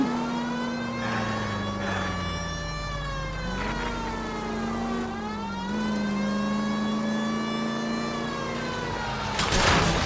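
Hearse engine in L.A. Noire drones steadily at low speed, its pitch sagging and rising with each gear change, with no talking.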